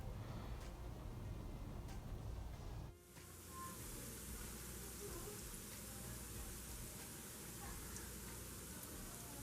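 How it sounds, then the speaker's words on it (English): Jamaican festival dumplings shallow fry in a pot of oil, giving a steady fizzing, crackling sizzle that jumps louder after a brief dip as more dough goes in, close and continuous. "So add some oil to your pot, and I'm going to shallow fry these"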